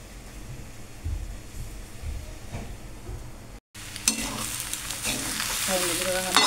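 Egg gabra, an egg chutney, cooking in a pan and being stirred evenly, a low scraping hiss at first, then after a short gap a louder bright sizzle with busy stirring scrapes, close up and wordless.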